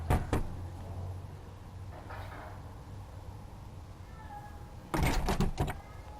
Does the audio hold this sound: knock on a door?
yes